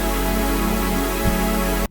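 A sustained synthesizer chord with stereo widening holds steady and full for about two seconds, then cuts off abruptly.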